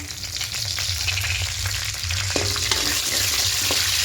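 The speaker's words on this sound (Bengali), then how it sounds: "এবার এখানে ফোড়নে দেবো গোটা গরম মশলা, দারুচিনি, লবঙ্গ আর গোটা জিরে, আর দেবো কয়েকটা তেজপাতা" Whole garam masala, cinnamon, cloves, cumin seeds and bay leaves fry in mustard oil, a loud dense continuous sizzle and crackle with occasional stirring knocks, close up.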